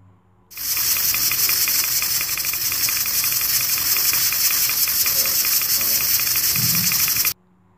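A pressure cooker holding mutton trotters for Lahori paye lets out a loud, continuous steam hiss and whistle that starts abruptly, holds steady for about seven seconds, then cuts off sharply.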